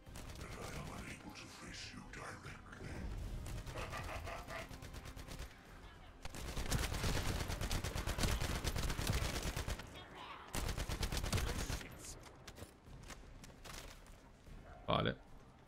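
Rapid bursts of automatic gunfire in the video game The First Descendant, with mechanical clicks and reloads, sustained stretches of shooting between brief pauses, with voices faintly mixed in.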